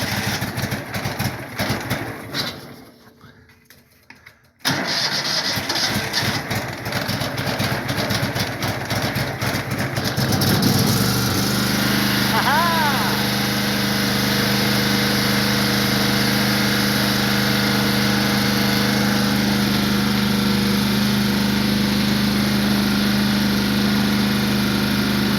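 A Yanmar diesel engine on a Cub Cadet mower cold-starts on a shop floor: cranking and sputtering, a brief drop-off, then the engine catches and settles into a loud, steady idle that runs on close by.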